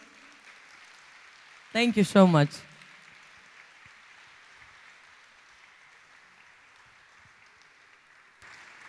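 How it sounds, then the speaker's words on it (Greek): Steady applause continues from a dance festival audience throughout, with a person briefly speaking near the start. "Πραγματικά ένα πολύ θερμό χειροκρότημα."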